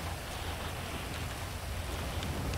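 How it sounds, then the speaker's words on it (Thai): Rain falls steadily as a dense, even hiss with no distinct drops standing out, continuous and fairly faint throughout. "รอแป๊บนึงรอฝนหยุดตกก่อน"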